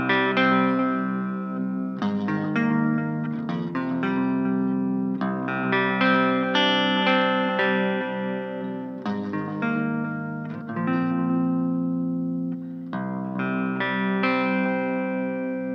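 Electric guitar through a Blackstar Fly 3 mini amp with the ISF control turned fully back, strummed chords ringing with a thin, effected, slightly distorted tone, loud and alone, with new chords struck about every two to three seconds.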